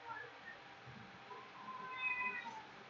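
A cat meows faintly several times at a distance, low in level against steady room noise, with occasional faint murmuring in the background.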